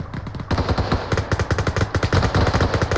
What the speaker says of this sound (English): I'm taking fire, I can't see the direction.